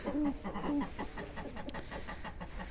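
Several roosters crow one after another in a farmyard, overlapping clucking calls with a strong call early on, then quieter ones continuing in turn at moderate distance.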